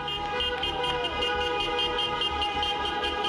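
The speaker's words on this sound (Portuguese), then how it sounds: "onde houve buzinaço." Car horns honk continuously in a street motorcade of business owners, merchants and app drivers through downtown Manaus, a dense blare of overlapping toots over running engines and traffic noise, with no voices.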